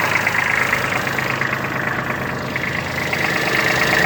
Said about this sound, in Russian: Двигатель работает ровно очень.